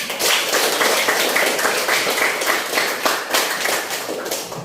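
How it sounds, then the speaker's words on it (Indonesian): Classroom clapping fills the whole stretch, a dense, steady patter of many hands from a group of students, loud and continuous with no talk over it. "Tepuk tangannya."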